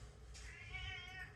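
A domestic cat meows once, close and fairly loud, hoping for an early feeding; the call rises and falls with a wavering tone over a steady low background hum.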